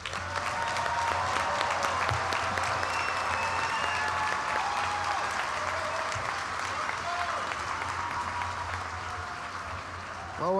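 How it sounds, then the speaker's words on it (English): Sustained applause from a large crowd at a college commencement ceremony, steady and dense throughout, fading slightly toward the end. "Let's give one more round of applause."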